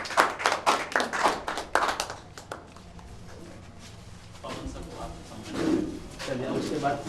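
An audience at a quiz event claps in a loud burst of applause at first, then it thins into scattered claps under talk and background noise.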